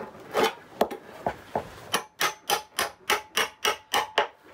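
A wide brick chisel works under old vinyl flooring to lift it, giving a close, steady run of sharp wooden-sounding knocks, roughly a dozen evenly spaced strikes, after a few scattered taps at the start, with no talking.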